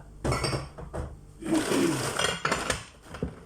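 A ceramic plate handled among other dishes, with several close clinks and clattering knocks in irregular bursts and some rustling between them.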